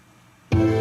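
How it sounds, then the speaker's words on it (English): A solo violin line from a string arrangement of House of the Rising Sun enters abruptly after half a second of near silence, then holds a bright sustained bowed note. "Solo violin part sounds like this."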